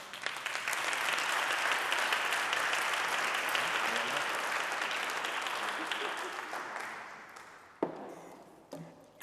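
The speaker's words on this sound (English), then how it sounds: "Please give her a round of applause." An audience at a community program on youth incarceration gives a round of applause that swells, holds, then gradually thins out into a few scattered claps and room noise.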